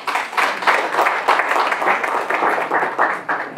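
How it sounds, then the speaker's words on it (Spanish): An audience at a regional education directorate event in Apurímac applauds a ministry official, with dense, steady clapping throughout. "Para quien pido aplausos fuertes."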